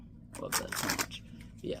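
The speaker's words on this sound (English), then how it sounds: "Just wanted to do one of the perfect shuffles there" A new deck of Fontaine Slime edition playing cards gets a perfect shuffle, a quick close riffle of flicking cards heard under a person talking.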